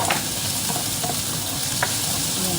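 Garlic sizzles and crackles loudly in a hot pan while being cooked for a giniling dish, with a steady frying hiss broken by a few stirring scrapes.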